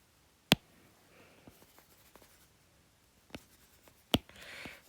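Pen writing on paper while a mnemonic for the sinus tympani on the middle ear's medial wall is drawn out: faint, scattered scratchy strokes between a few sharp clicks, quiet and close.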